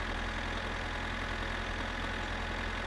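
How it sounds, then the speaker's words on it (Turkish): A tractor engine in the game My Summer Car, pushed in high gear, droning steadily with a low continuous rumble and a mechanical hum at even loudness, no voices. "Traktörle biraz hızlı gidelim bakalım."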